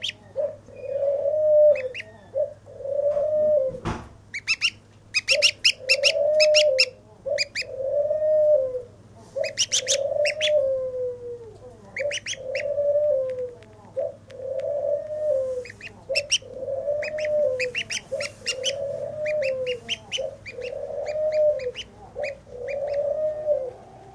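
A young gosling gives a steady series of soft, repeated peeping calls, close and clear, with evenly spaced calls continuing over about twenty seconds and occasional sharp higher chirps mixed in.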